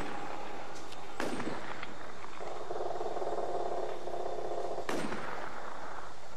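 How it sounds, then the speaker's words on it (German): Two sharp gunshots crack in the WarZ video game, one early and one later, each with a short echo, over steady game ambience and a sustained low hum between them; no one speaks. "Auf jeden Fall waren das Schüsse."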